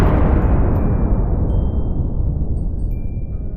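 A bomb detonating in a video game, a loud, dense blast whose rumbling roar decays steadily over several seconds and fills the whole space alone, with no voices.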